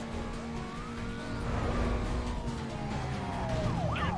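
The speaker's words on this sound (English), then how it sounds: "Turn the damn sirens off." Police car sirens wail in Need for Speed Most Wanted 2005, with rising and falling tones sweeping over a steady engine drone at moderate loudness.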